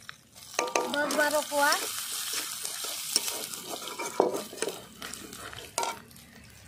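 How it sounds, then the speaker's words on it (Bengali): Panch phoron spices and crushed garlic sizzle in hot oil, with a steady frying crackle, a spoon scraping and stirring against the pan, and a few metallic clinks, while someone talks intermittently. "তেলের উপরে দিয়ে দেবো এবার পাঁচফোড়ন। পাঁচফোড়নটা দিয়ে দিচ্ছি।"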